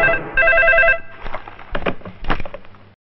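A telephone rings with two bursts of a bright electronic trill, then clicks and handling noises as the call is picked up, no talking.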